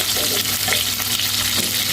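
Pieces of hilsa fish frying in oil, heard close as a loud, continuous sizzle with crackles and faint stirring, no one talking.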